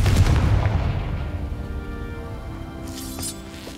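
A Confringo spell blast in the Hogwarts Legacy video game erupts as a loud booming explosion at the start, then fades into a lingering rumble with a brief crackle near the end.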